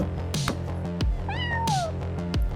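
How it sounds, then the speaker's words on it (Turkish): A cat meows loudly in a drawn-out, wavering call, with a couple of sharp thumps and background music-like tones around it. "kedi sesi geldi sanki"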